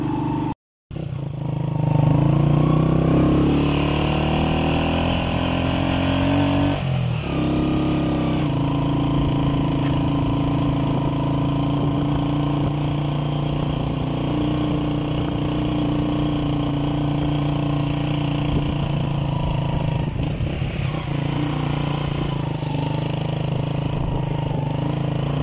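A warmed-up motorcycle engine runs steadily close by on a ride toward Kalas Sari Dara near Muzaffarabad, holding a loud, even drone after a brief cutout at the start.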